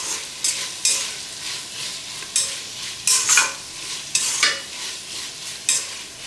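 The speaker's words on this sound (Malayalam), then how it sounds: "ഇളക്കി കൊടുക്കട്ടെ" A spoon stirs through a pan with hot ghee, producing repeated scraping strokes every half second or so over a soft continuous sizzle, close and fairly loud.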